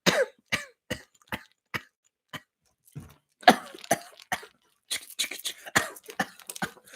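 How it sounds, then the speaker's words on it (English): A man's coughing, in a series of short, sharp bursts spaced through the stretch, with a few clustered throat-clearing hacks toward the end; close and fairly loud, with no talk. "you would hear me coughing throughout the show"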